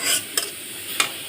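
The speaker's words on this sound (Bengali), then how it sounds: "আমি এখন পেঁয়াজ কুচা, রসুন, আদা কুচা দিয়ে দিলাম অন্য কড়াইতে" Chopped onion, garlic and ginger frying in oil in a wok, a loud close hiss with two quick stirring scrapes.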